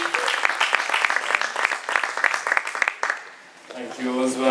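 An audience applauds to welcome a speaker at a gathering, dense close clapping that thins out and fades before a voice begins speaking near the end.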